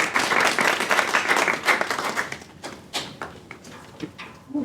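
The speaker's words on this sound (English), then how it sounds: "a round of applause for Mary." An audience claps to welcome a speaker at a panel event on creative aging, a full burst of many hands that thins into scattered, sparser claps and ends with a brief voice.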